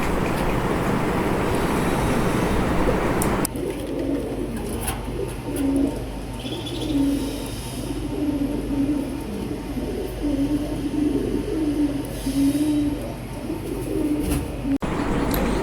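Pigeons in a loft where big, healthy Danish males are kept, cooing in repeated soft low throaty phrases over steady background noise that drops after a louder first few seconds.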